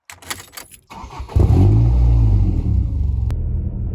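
A Mk6 Ford Fiesta ST150 fitted with a Whiteline rear anti-roll bar sets off: a few soft clicks, then the engine swells into a loud, close, steady low rumble as the car moves off.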